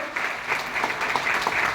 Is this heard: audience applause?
yes